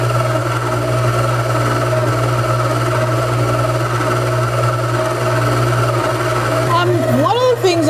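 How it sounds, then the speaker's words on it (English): A Cuisinart SM-55 5.5-quart stand mixer kneads dough with the full flour load added, giving a loud, steady motor hum and whir that runs unbroken, with a voice talking over it. "the head is moving around a little bit, but the motor is not struggling at all with it"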